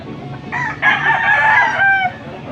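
A fighting rooster crows once, loud and close, a rising then sustained call lasting about a second and a half over quiet background.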